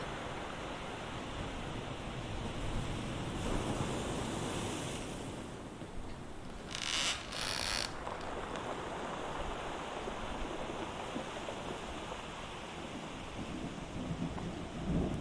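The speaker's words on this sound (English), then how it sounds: "the storm raged on, relentless, as the ship was tossed like a toy upon the waves" Heavy rain and crashing surf roar steadily at sea, with rumbling thunder rolling through a wind-driven storm.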